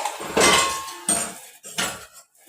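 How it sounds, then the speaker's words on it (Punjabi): Dishes and cutlery clatter during washing, three loud separate bursts of clinking metal and crockery close by, each fading before the next, with no voices. "ਮੈਂ ਭਾਂਡੇ ਵੀ ਮਾਂਜਣੇ ਆ"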